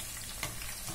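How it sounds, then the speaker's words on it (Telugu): Wheat flour pakodas fry in hot oil, a steady dense sizzle and crackle close by with one brief louder pop midway, no voices. "చాలా చక్కగా వేగుతున్నాయి పకోడా"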